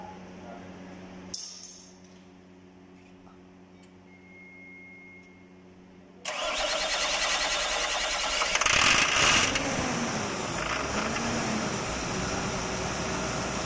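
After quiet clicks and a faint hum, a Caterpillar 320D-L excavator's common-rail diesel engine cranks and catches, settling into a loud, steady rattling idle close by.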